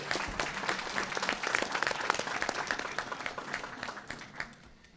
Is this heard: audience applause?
yes